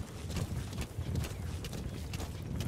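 Horse hooves in the video game Metal Gear Solid 5: The Phantom Pain, a continuous patter of clip-clopping footfalls as the horse moves along, steady and moderately close, with no talking over them.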